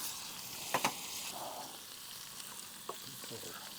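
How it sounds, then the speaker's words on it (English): Shrimp fry in a pan at a campsite, making a low, steady sizzle broken by a few sharp clicks and knocks of utensils against the pan. "Let's get our shrimp in there."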